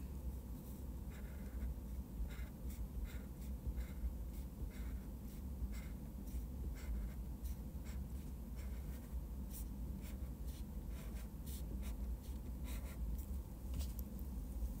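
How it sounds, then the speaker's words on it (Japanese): A highlighter pen is drawn across paper in a steady run of soft, scratchy strokes, each a short swish with a brief pause between, quiet and close against a low background hiss. "蛍光ペン引き引きの作業です"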